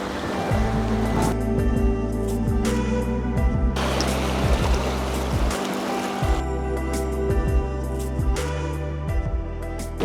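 Sea waves at the shore on Mallorca in cool, windy weather, a steady broadband wash of surf rolling in close up, loud and continuous with no voices.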